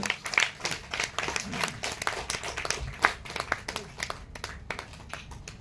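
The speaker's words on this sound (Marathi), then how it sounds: "आपण सर्वजण जोरदार टाळ्यांचा गजर देऊया" An audience bursts into lively clapping at a book launch for a Hindi essay collection, loud at first and then thinning out over several seconds.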